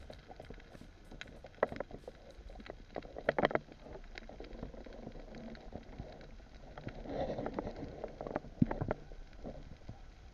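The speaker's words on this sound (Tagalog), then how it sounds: "maliban na lang sa bangka na dumaan sa taas po natin" A boat passes overhead during an underwater spearfishing dive, heard as a muffled engine drone that swells and fades amid scattered clicks and bubbling near the diver.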